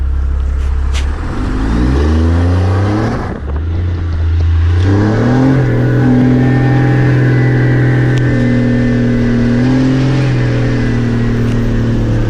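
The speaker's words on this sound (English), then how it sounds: "The truck gets up to speed a little bit faster." A 12-valve Cummins diesel pickup fitted with a fuel plate accelerates hard, its engine note climbing through several gear changes in a loud, steady rising roar with no talking.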